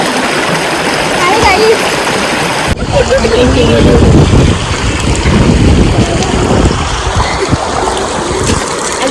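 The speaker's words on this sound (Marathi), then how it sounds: "एकमेकांच्या अंगावर पाणी मस्त नदीच्या किनारी बसलेली आहे आणि सगळ्या आंघोळ करतात" People bathing at a village riverbank splash water on one another, with loud outdoor splashing and flowing water mixed with wind buffeting on the microphone and voices talking over it.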